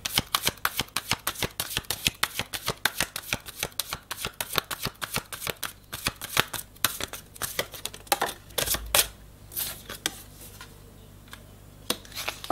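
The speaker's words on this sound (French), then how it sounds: "Je vais retirer 3 cartes encore." Cards drawn from a deck during a tarot-style reading, a rapid series of crisp, close paper flicks and snaps, repeated steadily, with no talking.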